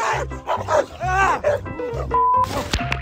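A dog barks and yips repeatedly in quick bursts, close and loud, with some whiny howling tones mixed in.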